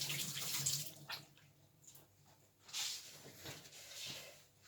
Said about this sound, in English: I'm gonna give a quick rinse to my hands